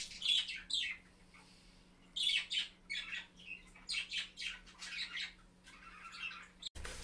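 Small pet birds indoors chirp and tweet in quick bright bursts, several calls overlapping with short pauses, fairly close, with a low steady hum underneath.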